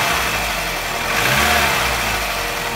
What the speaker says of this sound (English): So the engine revs up